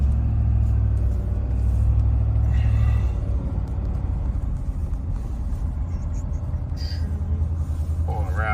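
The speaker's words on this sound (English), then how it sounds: "here comes a car" A car passing on a road over the crest of a hill during fall cleanup work, heard as a loud, steady low rumble of a vehicle close by, with the engine noise filling the whole clip and easing slightly after the first few seconds.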